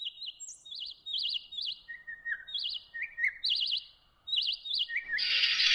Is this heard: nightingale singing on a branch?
yes